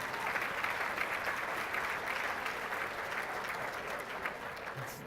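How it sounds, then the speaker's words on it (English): An audience at a fall educational forum applauds panel presenters after a session on sexual abuse and molestation claims, producing a steady, even roar of many hands that holds without pause throughout and sounds somewhat distant and soft. "This group absolutely deserves that applause"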